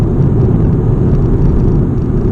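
A 2021 Suzuki Swift 1.2 GLX automatic driving on a ring road, heard from inside as a loud, steady low engine and road rumble with whirring tyre noise and no speech.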